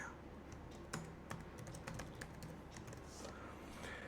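Someone types a password on a computer keyboard, a quiet run of scattered light key clicks over steady low room hum, with no speech.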